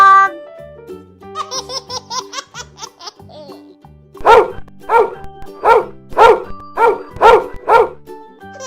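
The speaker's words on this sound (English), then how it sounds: "Dog." A cartoonish dog barks in a quick series of six loud, evenly spaced yaps after a giggly, childlike laughing run at the start, set among music in a children's animal learning song.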